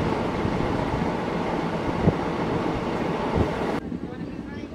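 A train crossing the Pamban Bridge: a dense, steady rumble of rolling wheels and carriage noise, close and continuous, cutting off abruptly near the end.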